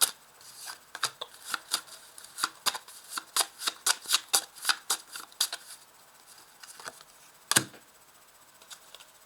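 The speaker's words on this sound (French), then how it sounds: "on va ajouter les cartes aussi sur l'étoile" Tarot cards being shuffled by hand, a rapid run of crisp close riffling snaps for several seconds, then quiet with one last sharp flick of a card.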